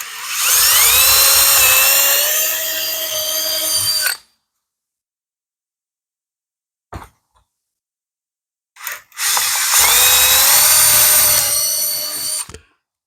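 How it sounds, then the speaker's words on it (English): Two long, loud bursts of a power drill whining through reclaimed pallet wood, drilling holes and driving wood screws, separated by a quiet pause with a couple of brief knocks. "I put a drill a hole in the corner of each corner to run a wood screw into."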